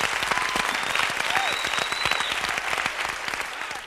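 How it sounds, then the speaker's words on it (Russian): Quiz show audience applauding steadily for about four seconds, dense clapping with a few brief whistle-like tones over it, loud and close throughout before easing slightly at the end. "И эти аплодисменты для вас."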